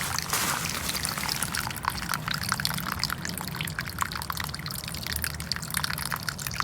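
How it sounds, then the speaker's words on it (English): A small pump-driven water fountain set among rocks in a succulent garden pot trickles and splashes continuously up close, a steady bright babble with faint low pump hum beneath and no speech. "little water fountain has its own little pump there"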